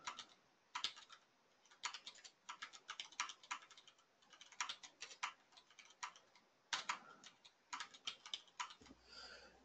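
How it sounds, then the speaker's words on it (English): Keys clacking on a computer keyboard in irregular bursts and runs, fairly quiet and close, with short pauses between flurries and no talking. "that's already a fair amount of typing"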